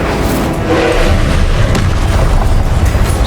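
An Incendio fire spell in Hogwarts Legacy erupts as a loud, sustained roaring whoosh of flame with a deep rumbling body, continuous and forceful throughout, with no voices over it.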